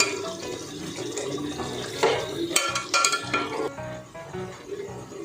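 A lid is lifted off a pot of Kolkata-style chicken biryani with chicken and potatoes nearly cooked. The metal clatters and scrapes for a brief moment over a soft, steady background of cooking noise.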